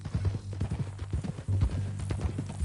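A horse's hooves clip-clop at a steady walking rhythm in a video game, close and fairly soft, with a brief louder thump midway.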